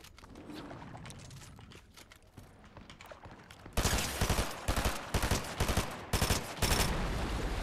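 Fortnite gunfire starts halfway through as loud, rapid bursts of shots that repeat in quick volleys and short pauses, following a quieter stretch of game sounds.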